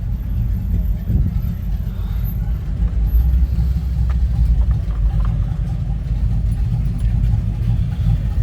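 A big old classic car's 455 engine rumbles at a hot rod festival, a loud continuous low growl close by amid crowd noise, with faint voices in the background.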